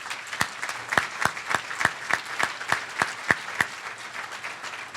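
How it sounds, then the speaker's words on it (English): A room of guests at a baseball first pitch dinner gives a steady round of applause, with sharp, evenly spaced claps standing out over a softer bed of crowd clapping. "one more round of applause"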